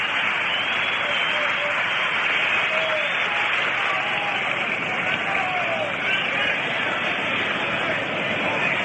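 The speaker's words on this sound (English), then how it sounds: "Here comes Early Wynn, having a nice round of applause." A ballpark crowd at a World Series game applauds and cheers steadily for pitcher Early Wynn, heard as a dense, even roar through a narrow, old radio-broadcast sound, with faint announcer talk blended in.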